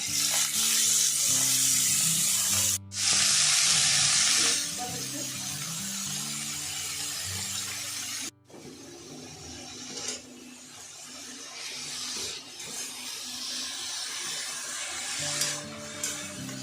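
Chopped cress greens dropped into hot oil seasoned with kalo jeera and green chillies hiss into a loud, close sizzle that settles into steady frying, broken by a couple of brief gaps and quiet stirring clatter, with someone speaking over it.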